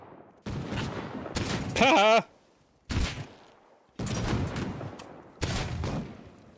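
Gunshots fire in a first-person shooter match, several loud sharp bursts separated by pauses, one followed by a short voiced exclamation from a player.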